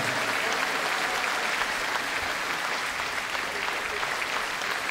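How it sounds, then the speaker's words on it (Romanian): A concert audience at a holiday music show with a folk orchestra claps loudly and steadily, dense sustained applause filling the whole stretch. "vă rog să-l aplaudați tare,"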